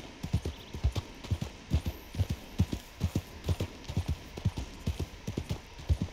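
Horse hooves clip-clop in Red Dead Redemption 2 Online with a rider carrying a passenger, a steady, even gallop of soft thuds over a faint ambient hum.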